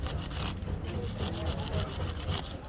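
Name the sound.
scrubbing gunk off wheel bearing with an iron brush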